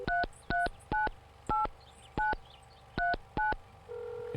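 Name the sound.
telephone dialing tones in the video game Mon Bazou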